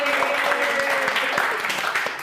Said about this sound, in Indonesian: Lu paling kenceng lu tepuk tangan mau naikin gaji gitu.